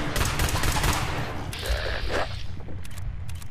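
Rapid gunfire in Fallout 4 rattles out in dense, loud bursts close up, followed by a few scattered shots and thuds as the firing thins out.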